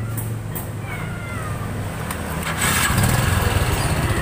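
A Yamaha Jupiter MX motorcycle engine idles close by with a steady low putter, its rumble growing louder and rougher toward the end.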